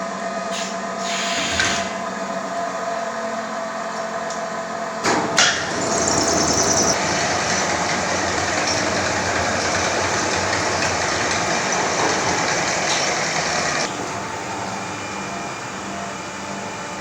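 Ceramic tile polishing machine running in a Pakistani tile workshop: a steady, loud mechanical drone that kicks in after a few scattered knocks and clatters, holding evenly for around ten seconds before easing slightly in level.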